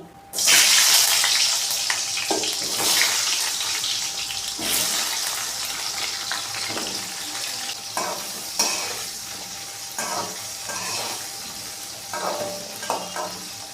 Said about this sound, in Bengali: এখন আমি এটা এই তেলেই ভেজে নেব।